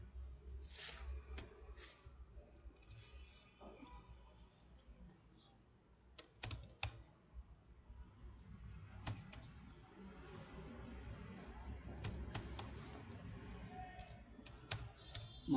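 Fingers tap on a computer keyboard in quiet, irregular bursts of clicks, fairly close and soft, with faint room noise between the keystrokes.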